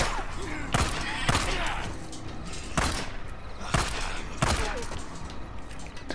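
Pistol shots fired in the video game Days Gone: about five sharp, loud cracks spaced irregularly over a few seconds, set against a constant rumbling game ambience.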